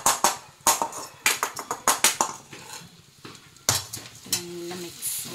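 A spoon stirs and scrapes a masala of melted onion and tomato in a pan, making a run of sharp rhythmic knocks and scrapes over a soft sizzle before easing into quieter mixing.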